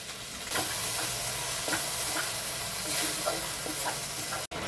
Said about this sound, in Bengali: সমস্ত জিনিস দিয়ে ভালো করে 5 মিনিট ভেজে নিতে হবে